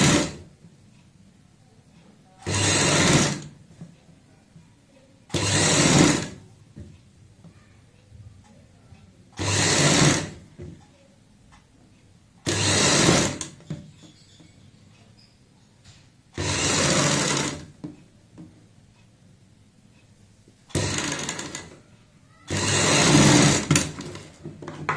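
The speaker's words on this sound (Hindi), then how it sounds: "यहाँ पे इस तरीके से रखते हुए एक पैर चौड़ाई वाली सिलाई लगाएंगे" An electric sewing machine stitching a girl's party-wear frock runs in eight short bursts of a few seconds each, a close whirring clatter separated by quiet pauses.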